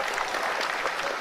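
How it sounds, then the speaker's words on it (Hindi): Dense, steady applause from scientists at the Chandrayaan landing broadcast, a brief burst of many hands clapping together at moderate distance. "आप सुन पा रहे थे तालियों की गड़गड़ाहट के साथ"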